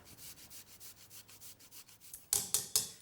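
Fresh ginger is rubbed against a kitchen grater in a quick rhythmic run of soft rasping strokes, followed by a few sharper, louder scrapes near the end, close and alone.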